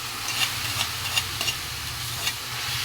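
Boiled taro stalks sizzle steadily in a pan, with a spoon scraping and stirring in a few distinct strokes over a constant close frying hiss, no voices.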